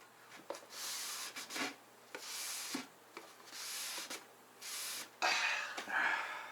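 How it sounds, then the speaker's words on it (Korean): Cloth rubbing over a wooden DIY camping box to wipe off wood-glue marks, with repeated back-and-forth strokes, each a soft close scrape, separated by brief pauses. "그래서 이 본드 자국을 깨끗하게 닦아줘야 되고 그 옆에 여기도 이렇게 한번 이렇게 닦아줘야 돼."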